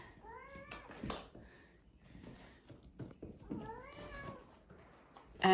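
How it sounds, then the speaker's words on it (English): Six-week-old Ragdoll kittens meowing, two clear rising high-pitched mews a few seconds apart, close by and fairly soft, with small rustles and handling noises between them. "I'll do a bit of cute kitten filming."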